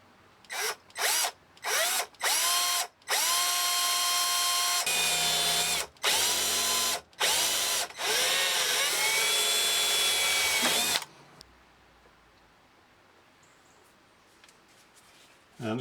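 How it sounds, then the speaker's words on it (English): A power drill bores into a window frame for a self-tapping screw, with several short whirring bursts followed by a long sustained run, loud and close, then quiet handling noise. "I'm going to drill into the frame."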